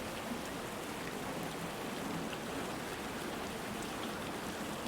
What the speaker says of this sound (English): It's sort of a meditative sort of state you can go into with rain sounds.